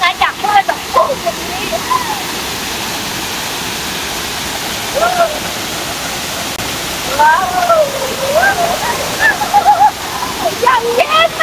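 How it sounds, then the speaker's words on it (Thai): Mae Sa waterfall in Thailand roars as a steady broadband rush of falling water, close and constant, while people talk and exclaim over it at several points. "อยากแบบได้ฟิลแบบน้ำตกตกใส่หัวอะไรประมาณนี้"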